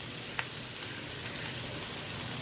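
Three chopped aromatics frying in butter for butter paneer masala, giving a steady, even sizzle close up with one brief tap, and no one speaking.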